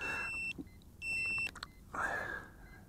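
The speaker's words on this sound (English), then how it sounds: "Hear that beeping in the back? That's the transmitter." Beeping from a Hubsan H122D X4 Storm FPV racer drone transmitter: two sustained high electronic tones, each about half a second long, then a rustling, handled sound.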